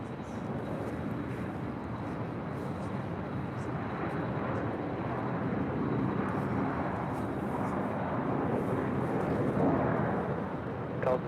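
A jet airliner taking off at LAX: a steady, broad roar of engines rising slightly over about eleven seconds, heard from a distance, continuous and moderately loud, with faint voices underneath.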